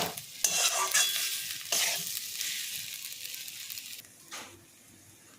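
Potato filling for patoler chop frying in a pan, a steady loud sizzle close by with scraping stirring strokes every second or so.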